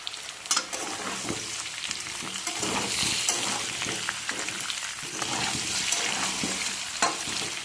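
Potatoes fried in oil with a little turmeric and salt are stirred in a pan, giving a steady close sizzle broken by scraping and clinking stirs.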